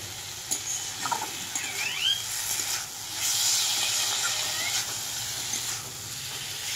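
Fried taro gently stirred in a frying pan: continuous hissing sizzle with soft scraping strokes of a spatula and a brief swell of louder steamy hiss midway.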